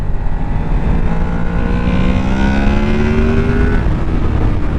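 A Honda VFR800FE touring motorcycle engine pulls hard under acceleration, its rising drone climbing steadily in pitch for several seconds, loud and close over constant wind and road rumble.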